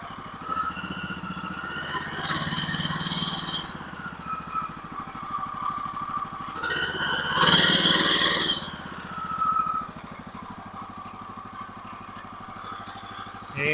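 A backwoods hobby sawmill's small engine idles with no blade fitted, a steady mechanical putter throughout, rising briefly twice in short louder surges before settling back.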